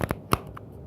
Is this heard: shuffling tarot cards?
yes